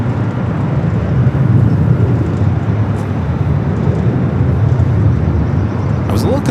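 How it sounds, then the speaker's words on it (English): A Virgin Atlantic Airbus A350-1000 heavy jet arrives from London Heathrow, giving a steady, loud broadband engine roar that holds for several seconds with a slight swell midway, while a voice talks faintly over it. "We got our next heavy arrival, Virgin E350 1000, flight 7, coming from London Heathrow."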